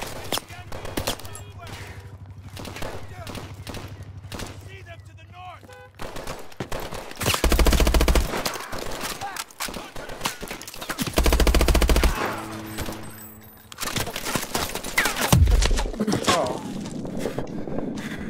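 Call of Duty Advanced Warfare gunfire on the Collapse level: three short bursts of automatic fire, the first two loudest, set against background battle noise and footsteps, with a voice briefly heard.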